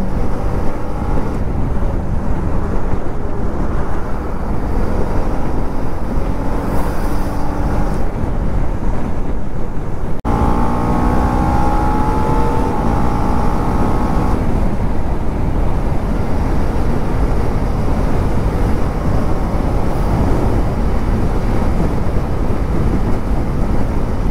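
A KTM Duke 250 motorcycle cruises along a highway at steady speed, its engine drone buried under a constant heavy rush of wind, with no talking.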